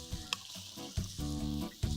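Sausage-bread filling sizzles in a hot pan in a studio kitchen, a steady frying hiss broken by several clattering knocks and stirring scrapes, close and fairly loud, with no speech.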